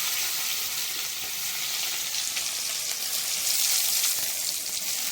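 Chopped onion frying in hot oil with cumin seeds, a steady close crackling sizzle throughout with faint stirring, no voices.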